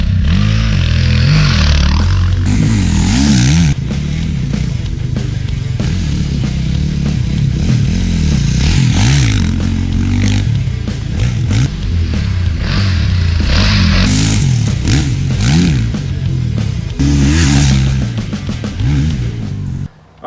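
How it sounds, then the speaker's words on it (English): A 2021 Kawasaki KX 450 dirt bike being ridden, its engine revving and dropping again and again as the rider shifts through the throttle, loud and near for the whole stretch, with scattered clatter and no talking. "We spent a couple of hours playing around, testing and riding the 21 model KX 450."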